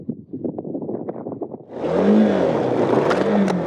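A KTM 390 Adventure motorcycle chugs with an uneven low engine pulse, then revs up into a loud rising and falling engine whine, close up.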